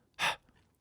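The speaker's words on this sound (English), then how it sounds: "they actually used her breathing as a little bit of a flare" A single short, breathy inhale from a female singer, used as an effect in a song, close and soft, lasting well under a second.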